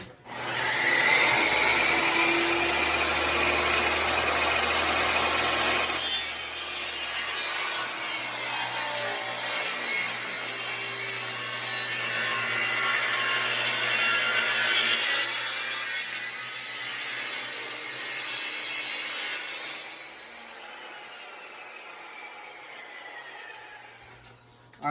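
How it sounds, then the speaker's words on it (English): A table saw cuts through laminate flooring in one long, loud, continuous whine and rasp lasting about twenty seconds before it drops away as the blade runs down. "we're just using a table saw to make our cuts"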